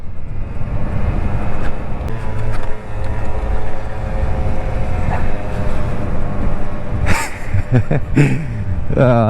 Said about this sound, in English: Freaking full throttle on this thing right now.